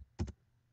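Two quick, quiet keystrokes on a computer keyboard while numbers are entered, a crisp double click in an otherwise hushed room.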